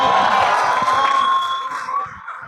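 A loud crowd cheering and shouting with scattered whoops, a dense wall of voices that eases off slightly toward the end.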